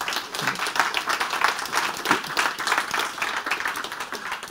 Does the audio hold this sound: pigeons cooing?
no